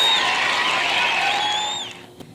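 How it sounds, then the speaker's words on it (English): Students clap together in a classroom at a teaching demonstration, a dense burst of applause that holds steady and then fades out after about two seconds. "give yourselves a round of applause"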